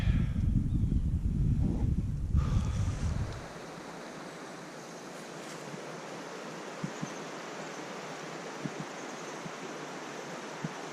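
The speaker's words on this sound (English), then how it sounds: "So we're next to the Chattanooga River." A river beside a hiking trail rushes with a broad, steady wash of water; a loud low rumble at the start drops away, leaving the even flow alone with a few faint knocks.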